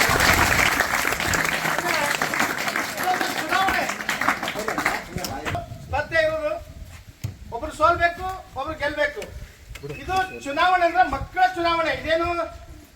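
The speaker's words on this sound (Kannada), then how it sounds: "ಈ ಸಂದರ್ಭದಲ್ಲಿ ಜೋರಾದ ಚಪ್ಪಾಳೆ ಮೂಲಕ" Loud applause from a crowd at a government high school's student parliament election event for about five seconds, then someone speaks over the fading claps.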